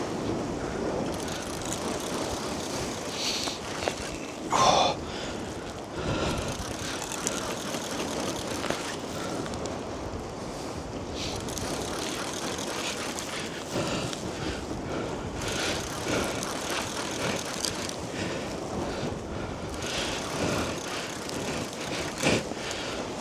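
A fishing reel winds in a winter cod on the Firth of Forth, a continuous ticking ratchet whir running under steady wind and sea noise, with brief louder mechanical bumps and no voices.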